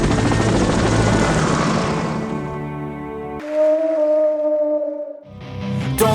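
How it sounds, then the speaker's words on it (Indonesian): A helicopter flies past over open sea near an island, its rotor chop loud and close at first, then fading as a high whine lingers before the thumping swells again at the end. "ada helikopter."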